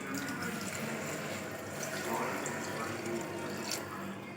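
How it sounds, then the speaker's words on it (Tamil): A glass of water is poured onto rice in a pressure cooker, giving a faint, steady splashing trickle that runs several seconds in a quiet kitchen. "அரிசி போட்டதுக்கப்புறம் ஒரு கிளாஸ் தண்ணி ஊற்றிக்கலாம்."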